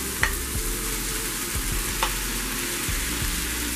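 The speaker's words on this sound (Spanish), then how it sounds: "agregaremos la cebolla, el tomate y el ajo picado. Ahora lo que vamos a hacer es dejarlo cocinar entre fuego alto y medio" Ground meat frying in a pan with chopped onion, tomato and garlic over medium-high heat for Peruvian stuffed caiguas, a steady soft sizzle with a few stirring clinks and scrapes, no talking.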